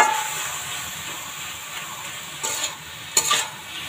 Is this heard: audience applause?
no